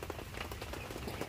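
Steady rain pattering on a surface at a rural Thai home, a dense, even hiss of drops close by with no voices.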